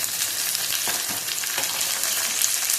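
Onions and tomato sautéing in a pan, a loud steady sizzle with a few soft stirring scrapes, close up and without any voices.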